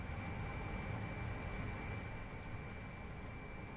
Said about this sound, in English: we'll have the external power, which is very loud